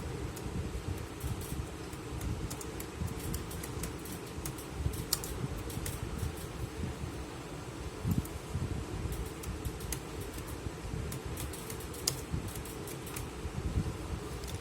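Soft keyboard typing of a short search phrase on a computer, faint scattered key clicks over a steady fan-like hum.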